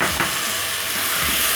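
Tomato hitting a pan of cooking garlic, a loud, steady sizzle and frying hiss filling the whole moment, close up with no talking, while preparing osso buco.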